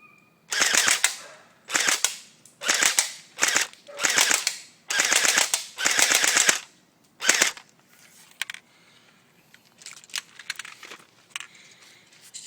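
A Cybergun M1A1 Thompson airsoft electric gun firing fully automatic: six or seven loud, sharp bursts of rapid clicking shots, each lasting around half a second with brief gaps, then quieter scattered clicks and handling noises.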